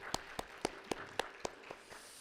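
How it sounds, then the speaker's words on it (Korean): Church congregation clapping at a Friday service, heard as about eight evenly spaced, crisp claps in a steady rhythm that fade slightly at the end, fairly quiet in a calm room. "우리 고수성 집사님 위해서 박수 한번."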